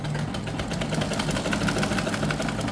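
A sewing machine runs steadily while stitching a blouse neckline, a continuous mechanical hum with a rapid, even needle rhythm, close and moderately loud without pause.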